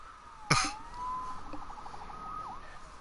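A sharp click is followed by a wailing electronic video game siren that rises and falls steadily, thin and moderately quiet, with no voices.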